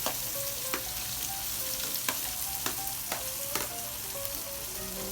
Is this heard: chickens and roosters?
no